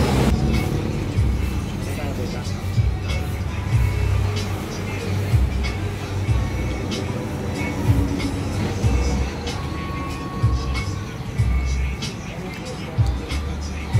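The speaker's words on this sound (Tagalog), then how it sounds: "Ang ingay ng truck." Heavy truck rumbling and droning past on a street outside a newly opened buffalo chicken shop, steady low engine noise with traffic sounds and people talking over it.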